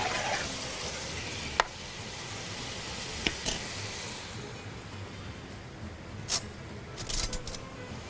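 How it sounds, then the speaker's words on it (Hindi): Ginger and garlic fry together in a pot for chicken and potato korma, giving a faint, steady sizzle with a few sharp clinks from stirring, and no talk over it. "मैं इसमें ओहो अदरक और लहसुन भी साथ ही डाल रही हूँ और इसकी हम भुनाई कर लेते हैं"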